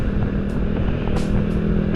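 Honda Vario 125 scooter-style motorcycle, an older model, ridden slowly along a road in the evening, with a steady low engine drone and wind rumble continuing throughout without pause.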